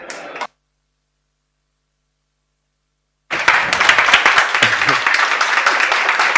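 Lecture audience applause: after a brief snatch of voice and a few seconds of silence, a steady, fairly loud patter of many hands clapping starts and keeps going.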